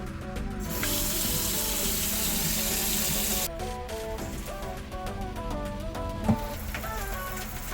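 Water runs steadily from a hot and cold tap aboard a ship with a hissing splash for a few seconds, then stops, while music plays in the background.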